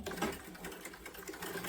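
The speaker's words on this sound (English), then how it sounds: "Actually, I also want to just stitch along the top line as well." A sewing machine stitches along the top line of a sling bag, a steady fast mechanical whirring with a rapid needle clatter, close and continuous, no voices.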